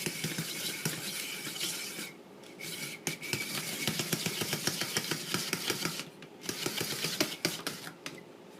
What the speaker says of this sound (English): you cut the end off your cucumber and then poke it in here, turn the crank, and it is just the neatest thing ever